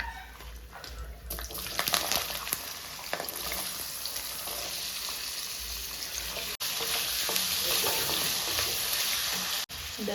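Vegetables sautéing in a hot tempering of fennel, cardamom and curry leaves, giving a steady close sizzle and crackle with stirring scrapes, running continuously with no talk.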